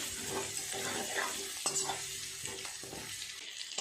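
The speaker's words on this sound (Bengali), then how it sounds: "লাল লাল করে আলুগুলোকে সুন্দর করে ভাজা করে নেব" Potatoes with a little turmeric fry in oil with a soft, steady sizzle, broken by a few sharp clinks and scrapes of stirring, close by.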